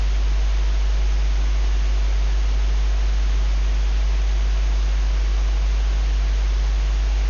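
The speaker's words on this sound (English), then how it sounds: "it's essentially just a radio scanner where you're just not hearing the white noise" Steady broadband static from a radio scanner, a constant even hiss with a low hum underneath, running unbroken and fairly loud with no voices.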